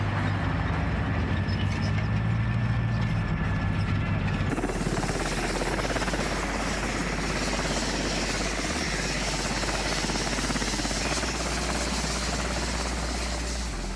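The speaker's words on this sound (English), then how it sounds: "from the moment the helicopters took off" Military helicopters take off for a medical evacuation of a wounded soldier from Gaza: a loud, steady roar of rotors and engines fills the whole stretch, thickening abruptly after the first few seconds, with no voices.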